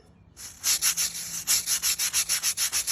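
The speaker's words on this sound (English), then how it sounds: "So I'm back to the handheld scrubber." A handheld scrubber working over a moldy brick walkway in quick, even back-and-forth strokes, about a dozen rhythmic rasping scrubs close by after a brief quiet start, no talk.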